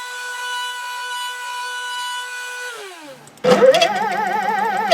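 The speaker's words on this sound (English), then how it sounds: "So we're gonna route this out so the Tele pickup will fit in here." A CNC router spins down with a falling whine, then bites into a guitar body to cut a Telecaster pickup cavity, a loud steady buzzing cut heard up close.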